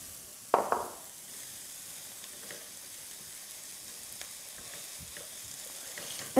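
Minced meat hits a hot pan with caramelised onion, a loud sizzle erupting at once then settling into a steady, quieter frying crackle close by, with a sharp clatter at the very end.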